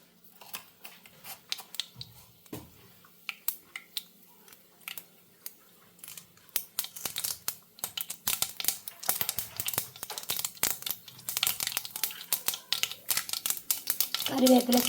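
Mustard seeds hit hot oil for a cauliflower thoran, giving sharp, close pops and crackles that start sparse and build into a dense, loud spluttering toward the end.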